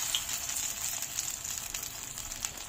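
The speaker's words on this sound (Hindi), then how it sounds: "और इनको करेंगे हम सीधा डीप फ्राई। जो हमने ऑयल रखा है कढ़ाई में," Vegetable cutlets deep frying in hot oil in a kadai, a steady, even hiss and fine crackle of bubbling oil, close but fairly quiet, without speech.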